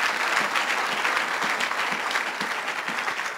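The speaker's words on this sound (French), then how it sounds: "On acclame le Seigneur parce que ça va nous beaucoup nous aider" Sustained applause from a church congregation at an evening vigil, steady and fairly loud clapping filling the whole stretch without pause, with a faint murmur of voices underneath.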